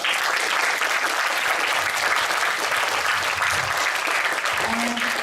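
Loud, sustained applause from a large audience at a 2017 graduation ceremony of Maragondon Parochial School, a dense and even wash of clapping from start to finish.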